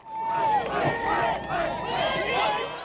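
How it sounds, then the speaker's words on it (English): A large crowd at an Indiana election-night rally chants Mike Pence's name in a loud, rhythmic, repeating chorus of voices. "the crowd chanted his name"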